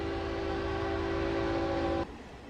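Locomotive running along a track in modded Minecraft, a steady loud tonal drone like a horn or engine hum holding for about two seconds, then cutting off abruptly to a quieter rumble.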